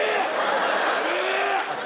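A comedian on a stand-up stage vocally imitates the retching heave just before vomiting, a strained rising gurgle held for nearly two seconds at close range.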